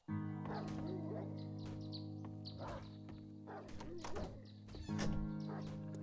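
A zombie dog in the 7 Days to Die video game barks repeatedly at a door, a string of sharp, close barks over a steady droning background hum.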